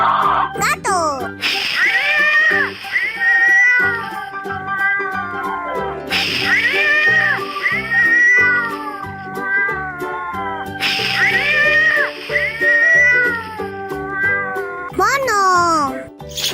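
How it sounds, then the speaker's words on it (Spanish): A cat meowing in a children's animal-sounds learning segment, three long drawn-out meows spaced evenly across the stretch over steady background music, with a voice speaking near the end. "Gato."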